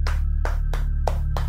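Hands slap a thigh five times in an even rhythm, close and dull, mimicking a person's footsteps over a low steady hum.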